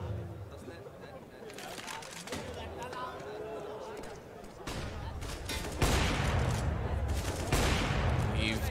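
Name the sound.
gunfire in CS:GO video game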